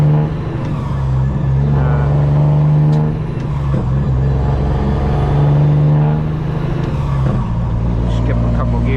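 A custom Peterbilt truck with straight pipes rumbles loudly and steadily while driving on a two-lane road, its deep engine drone swelling and easing, with a person talking over it.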